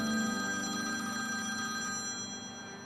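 A telephone rings steadily indoors, a faint, continuous trilling bell sounding alone throughout with no voices.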